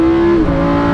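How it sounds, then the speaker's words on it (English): A Lamborghini Huracan engine blips through a double downshift, a loud close rev with a pitch drop midway, heard alone without talk. "That was a double downshift."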